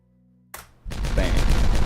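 An explosion detonated in a colony-building video game: a short sharp crack, then a loud rumbling blast that keeps roaring to the end.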